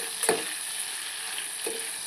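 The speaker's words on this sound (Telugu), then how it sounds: "కొద్దిగా సాల్ట్ వేసుకొని ఇలా వీటిని ఇలా ఫ్రై చేసుకోవాలన్నమాట" Liver pieces sizzle steadily in a hot pan, a constant close frying hiss with a couple of brief stirring scrapes.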